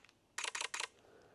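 Digital imitation shutter sound from a Sony ZV-E10 Mark II camera: three quick, crisp clicks in close succession, loud and near, with no other sound around them.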